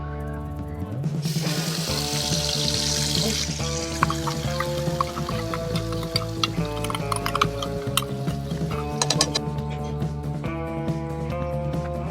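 Ground masala paste, freshly blended in a mixie, frying in oil with cumin and curry leaves in a kadai for paneer masala curry, a steady close sizzle with stirring clinks under tonal background music, no talking.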